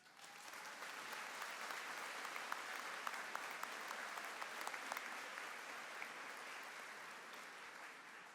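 Steady audience applause fills a university commencement ceremony hall, a dense even patter of many hands clapping throughout without a break, at moderate volume and with no talk over it.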